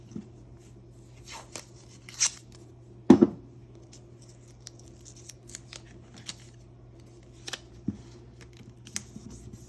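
Scissors snipping a paper picture during a snowy-day classroom lesson: a few short, crisp cuts spaced apart, near and fairly quiet against a low steady background hum.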